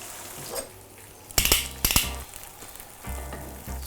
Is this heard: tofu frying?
yes